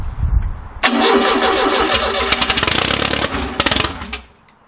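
A 1969 Ford Capri engine cranks briefly, then catches and roars into a loud, rough run with sharp popping backfires scattered through it, before cutting out abruptly into quiet.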